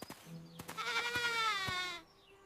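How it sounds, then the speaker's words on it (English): A single goat bleats up close in the mountains, a long wavering cry lasting over a second, preceded by a few soft knocks and outdoor background. "There is the goat again."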